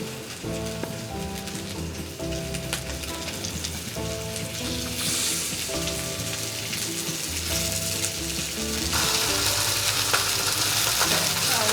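Rice-flour-coated cod fillets sear in a hot pan with a steady, loud sizzle that grows brighter and more intense toward the end, under a background of music.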